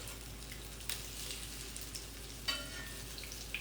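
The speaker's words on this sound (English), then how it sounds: "Now, I'm not frying these directly in all of that oil because I just want to sear." Keto salmon croquettes searing in a shallow layer of hot oil give a soft, steady sizzle with faint crackling pops, close and low in level, with no voices.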